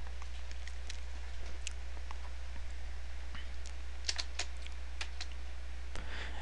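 Soft, fast tapping on a computer keyboard against a steady low electrical hum, faint and irregular keystrokes throughout.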